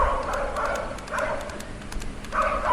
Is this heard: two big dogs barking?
yes